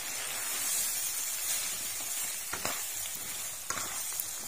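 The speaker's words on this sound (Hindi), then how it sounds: "आलू को अच्छी तरह से भून लेंगे।" Potatoes frying with spice masala in a pan for aloo methi, a soft, steady sizzle and hiss with a few faint stirring scrapes near the end.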